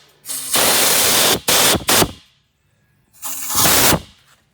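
Compressed air blown through a turbo wastegate pipe, loud close hissing blasts: one long burst, two short bursts, a pause, then another long burst.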